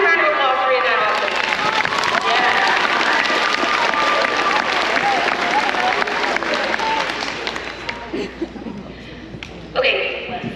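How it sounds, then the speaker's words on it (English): Loud, sustained applause from a middle school band audience fills the room with dense clapping and some cheering and laughter, tapering off near the end before a brief final burst. "Give me a round of applause for being that awesome."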